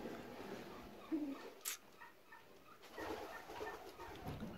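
Indian fantail pigeons in a loft give soft, faint coos close by, with scattered light scuffles and fluttering in a quiet space.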